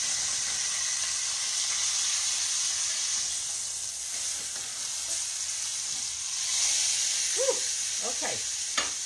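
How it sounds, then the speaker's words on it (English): Pork loin roast searing in a hot pan, a steady loud sizzle and hiss throughout with brief scraping as the meat is turned. "What searing does when you sear a roast like this"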